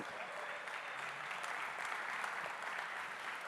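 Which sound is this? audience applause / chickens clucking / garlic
audience applause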